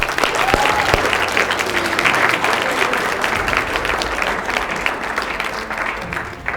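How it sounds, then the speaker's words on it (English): A sustained round of audience applause at a live speaking event, dense and steady with many hands clapping at once, filling the room at an even level throughout. "Let's give him a round of applause for that."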